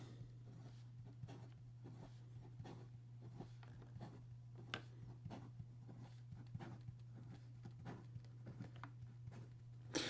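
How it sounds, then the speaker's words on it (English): A Montegrappa Imperial Year of the Dragon fountain pen nib scratches quickly across paper in a rapid stream of faint, crisp strokes over a low steady hum. "And then in regard to some fast writing"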